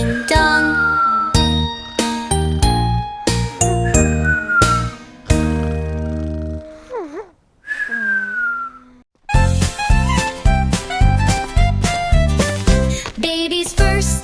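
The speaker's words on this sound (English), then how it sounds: "Morning bells are ringing, morning bells are ringing" Morning bells ring in a bright children's nursery rhyme, with repeated tinkling chimes over a bouncy melody, a short pause near the middle, then a busy stretch of chiming.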